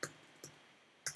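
A computer mouse gives a few sharp, faint clicks: one at the start, one shortly after, then a quick double click, against a quiet background.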